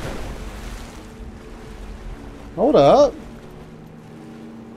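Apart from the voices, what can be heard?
water in Rise of the Tomb Raider video game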